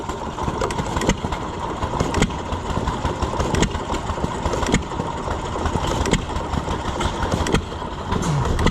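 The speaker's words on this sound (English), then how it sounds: "it runs just like any other gas engine." Antique stationary gas engine with an igniter runs at a county fair gas engine display, a steady mid-range chugging with periodic sharp firing beats about once a second amid outdoor background noise.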